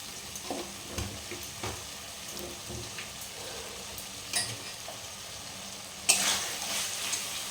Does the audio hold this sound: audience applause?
no